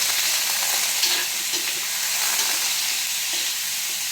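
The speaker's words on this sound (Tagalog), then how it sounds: "Igisa lang natin siya hanggang maging golden brown." Pork baby ribs sauté in a pan until golden brown, giving a loud, continuous hissing sizzle up close, with faint scraping from stirring and no voices.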